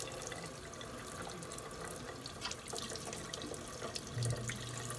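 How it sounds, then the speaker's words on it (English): Running tap water splashes over a magnet-driven aquarium pump being rinsed in a sink while cleaning a common snapper tank, a steady close hiss and patter of flowing water lasting throughout. "I like to just run this through some water real quick"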